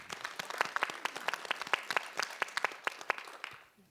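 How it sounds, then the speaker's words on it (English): Audience applause at a gaming fan convention, a steady patter of many hands clapping at moderate volume, tapering off toward the end. "We really don't have to keep clapping after every point."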